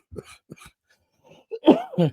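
A few short coughs, one louder rough cough near the end, with brief quiet gaps between them.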